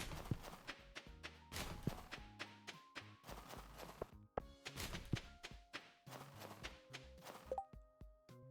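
Horse hooves clip-clop in a video game, a series of close, crisp rhythmic hoof taps in uneven bursts with short pauses, alone without voices.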